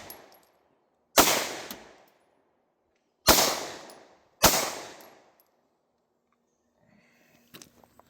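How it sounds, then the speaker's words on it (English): Three loud, sharp shots from a Hi-Point C9 pistol loaded with hollow point rounds, spaced unevenly with a few seconds of ringing decay after each, followed by faint handling clicks. "I will load up some hollow points and we'll see if it'll shoot hollows."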